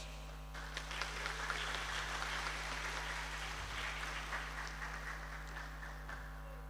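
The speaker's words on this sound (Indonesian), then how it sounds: "Kita beri aplaus" Applause for a speaker at a Nahdlatul Ulama gathering in Keerom, Papua: a steady wash of many hands clapping fills the whole stretch, fairly distant and even, over a constant low hum.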